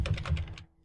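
Rapid typing on a computer keyboard, a quick run of about eight close crisp key clicks that stops abruptly, leaving near silence.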